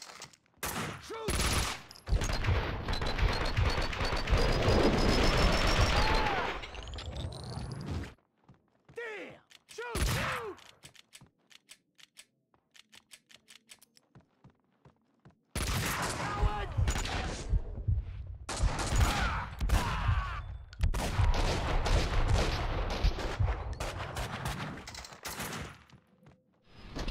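Gunfire in the video game Max Payne 2, with dense bursts of rapid shots in two long stretches separated by a quieter gap of scattered single shots, and in-game voices speaking between them.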